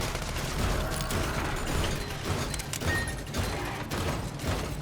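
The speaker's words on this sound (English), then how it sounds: "Also got a machine gun hand." Rapid bursts of machine gun fire from a robot's machine gun hand in the video game Sand Land, dense rattling shots with thumps under busy game sound effects.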